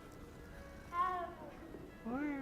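A cat in the video game Hogwarts Legacy gives two short, rising-and-falling meows about a second apart, close and moderately loud, with a brief spoken exclamation from a player.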